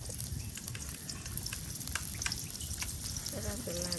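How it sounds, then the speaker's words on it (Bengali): Chopped onions sizzle and crackle in hot oil in a pan, a constant close hiss with scattered pops and stirring, while people talk over it. "পেঁয়াজ গুলা তেলে একবারে ভাজি ভাজি হয়ে গেছে"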